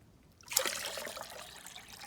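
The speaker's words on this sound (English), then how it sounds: "we're gonna get this water, put them in this pitcher." Fresh young coconut water splashes into a pitcher, beginning abruptly with a bright gush and settling into a steady trickling pour that fades slightly, close and quiet.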